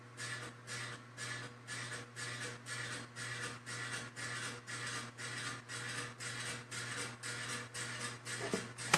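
A fan rattles from a loose screw, a steady, evenly pulsing mechanical buzz with a constant low hum underneath, repeating roughly every half second, close and alone.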